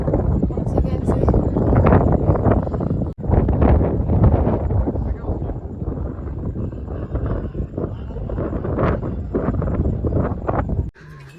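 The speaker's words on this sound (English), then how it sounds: "From this place it's really windy" Strong wind at the Harihar Fort trekking site buffets the microphone in loud, continuous rumbling gusts, with one brief drop, while a person talks over it.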